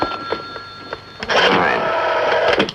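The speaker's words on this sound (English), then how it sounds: "The phone's ringing." An old-fashioned telephone bell in a 1960s television drama rings loudly in a sustained burst, after a few faint earlier rings against a quiet room.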